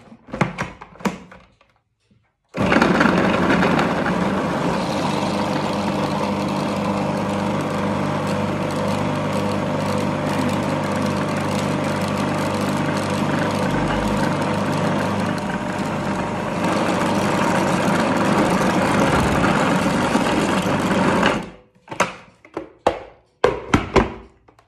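A food processor runs for about twenty seconds blending butter into pastry dough, a loud, steady motor roar with a chopping whir, preceded and followed by clicks and thunks as the machine is set up and stopped.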